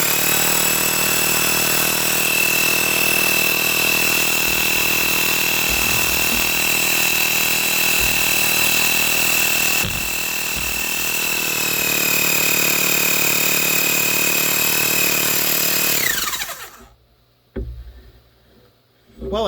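A small electric air pump motor runs with a steady, fairly loud hum and whine for about sixteen seconds, then cuts off abruptly, leaving near silence with a couple of faint clicks.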